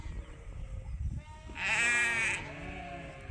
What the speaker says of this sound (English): a whole bunch of lambs are exploring around out here